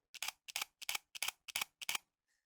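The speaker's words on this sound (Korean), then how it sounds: "ZFC의 셔터 소리가 마음에 든다 이렇게 올리시는 분들이 많으시더라고요" A Nikon Z fc mirrorless camera fires its shutter seven times in an even rhythm, each a crisp, close double click, followed by a faint tick at the end.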